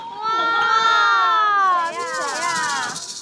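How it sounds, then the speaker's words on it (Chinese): A television talent-show audience at Chuang 2020 cheers and shouts loudly together in a sustained wave of excited voices as a special founder is invited on stage to present awards. "掌声有请我们特殊的创始人"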